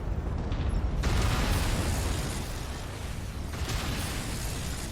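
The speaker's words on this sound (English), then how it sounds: "I'm going to keep shooting these things. Destroyed." Weapons fire and explosions in the mech combat video game MechWarrior 5: Mercenaries, a dense, continuous roar of blasts and bursts with a sharper impact near the start and another swell later, loud and without talk.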